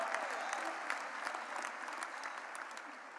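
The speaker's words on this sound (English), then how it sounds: "Let's hear it for the girls' soccer team, getting to the state finals and also kind of winning." Applause and cheering from a graduation crowd for a girls' soccer team that reached the state finals, steady dense clapping sustained throughout at moderate distance.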